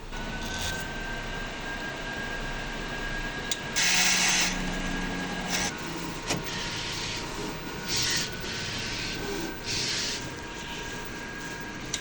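A sublimation printer runs a head clean cycle: continuous mechanical whirring with a faint high tone, interrupted by several short bursts of louder grinding and clicking from the pump and carriage, fairly close.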